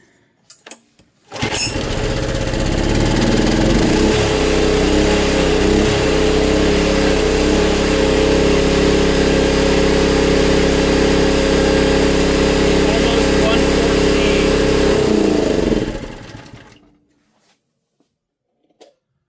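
A Honda EB1400X generator with a power fault runs after being choked, giving a loud, close, steady engine drone that starts abruptly, holds for about fourteen seconds, then dies away.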